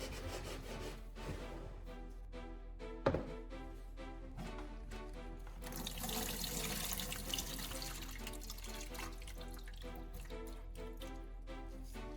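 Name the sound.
water rinsing a battery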